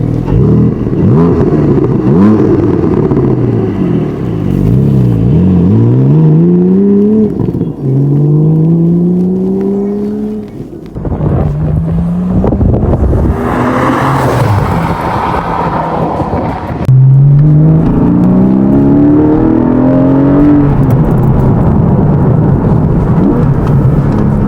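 A Porsche 718 Boxster GTS with a stage 1 remapped 4.0-litre engine is driven hard on country roads. Its engine revs rise and fall loudly and continuously through repeated gear changes, with a deep rumble throughout.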